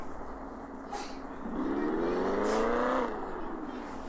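A modified Tofaş Şahin in a parking and drift video game revs up, the engine note climbing steadily in pitch for a second and a half before cutting off, over a low background hum.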